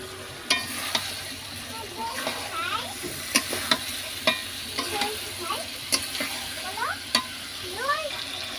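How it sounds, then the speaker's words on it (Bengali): Chicken pieces for a chicken roast sizzle and fry in a pan while a utensil stirs and scrapes them in light, irregular strokes, a steady soft crackle underneath with occasional sharper clinks. "এবার মাংসগুলো ছেড়ে দিব"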